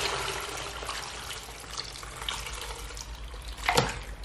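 Herbal bone broth with marrow and bits of herbs poured out of a pot, a steady close liquid splash and trickle with a brief louder gush near the end.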